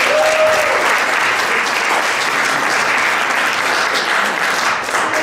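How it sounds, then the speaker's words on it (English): A crowd at a community meeting gives itself a loud, sustained round of applause, dense continuous clapping filling the whole stretch at close range. "Give yourselves a round of applause."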